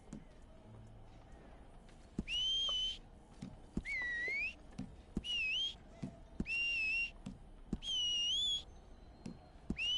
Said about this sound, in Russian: Выбирать свист.